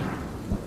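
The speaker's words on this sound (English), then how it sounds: "The storm that swept through Brisbane, concentrating itself on Woolloongabba and on the cricket ground." Storm noise over the Woolloongabba cricket ground in Brisbane: a steady, dense roar of rain and wind with low rumbling thunder swelling toward the end, no voices.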